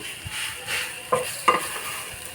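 Sugarcane jaggery being stirred into an elephant apple pickle gives a soft, steady sizzle with a few sharp scraping clicks from the spoon against the pan, close and quiet.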